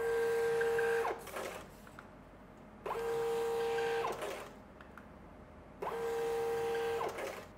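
A Bixolon SRP-330ii thermal receipt printer runs three quick print jobs, each a loud, steady whirring buzz of about a second ending in a short cutter snap, with quiet pauses between, close up and without talk.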